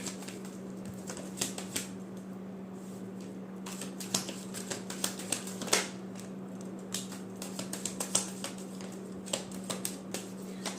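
Tarot cards are shuffled by hand in quick, irregular riffles and light slaps, close and fairly soft against a steady electrical hum.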